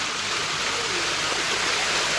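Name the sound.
streams of rainwater flowing at Pavagadh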